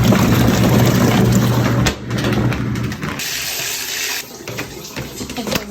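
Water runs steadily from a tap to rinse a Prada nylon bag, a loud splashing rush that shifts in tone and eases off near the end, with no talking.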